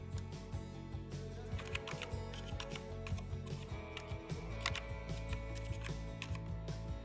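Someone types a file name on an English computer keyboard, a run of quick, close key clicks at an irregular pace over faint background noise, with no talking.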